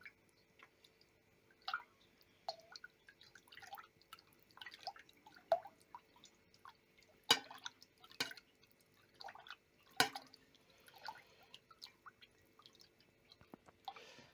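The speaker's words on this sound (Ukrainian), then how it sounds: "Перемішуємо наше молоко добре." Milk mixed with kefir starter being stirred in a pot, quiet wet sloshing and dripping clicks in an irregular rhythm, close and soft, with a few sharper knocks of the spoon.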